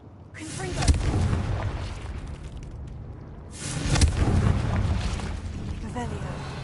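Two heavy booming blasts from a Confringo fire spell in a video game, the first near the start and the second a few seconds later, each followed by a rumbling tail.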